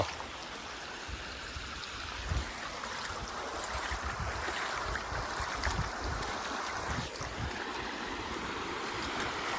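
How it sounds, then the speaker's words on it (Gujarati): Unseasonal rainwater pouring through a farm field makes a steady, close rushing and gurgling flow, broad and continuous throughout with no voices. "કેવું સરસ મજાનું પાણી જાય છે. ખળખળ વહેતી ગંગા જેવું."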